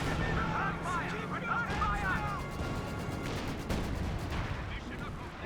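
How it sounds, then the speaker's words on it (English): Artillery barrage in the Company of Heroes 2 strategy game, a dense continuous rumble of distant blasts and crashing impacts layered over battle noise, with a voice commenting over it throughout. "The artillery barrage running back here."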